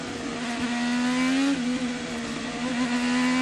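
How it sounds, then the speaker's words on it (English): An IndyCar race car accelerating hard across the grass during the Indianapolis 500 open test, its engine note a loud, steady rising whine that dips briefly and climbs again, close and alone. "Listen to him accelerate across the grass here."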